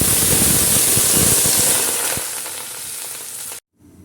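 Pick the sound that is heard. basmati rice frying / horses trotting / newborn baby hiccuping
basmati rice frying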